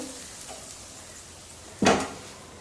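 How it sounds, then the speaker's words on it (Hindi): Rice is stirred in a pot over oil, butter and cumin tempering, giving a single short scraping clatter near the end after a quiet, low-noise stretch. "हल्के से इसको पहले हिलाते हैं।"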